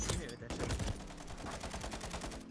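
Rapid gunfire in Modern Warfare 3, a dense stream of close shots and bursts repeating steadily throughout, fairly loud and unbroken.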